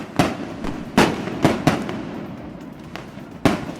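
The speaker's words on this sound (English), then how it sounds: "one of the biggest fireworks shows in North Texas lit up the sky over Toyota Stadium" Large Fourth of July fireworks show over Toyota Stadium in North Texas: a string of sharp, loud booms and cracks at irregular intervals, each bang trailing off into a brief rumble, with no talk.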